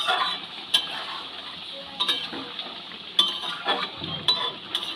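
A spoon stirs garam masala into a vegetarian chana dal fritter curry in a pan, with a few sharp metallic clinks against the vessel over a soft, steady scraping and faint sizzle.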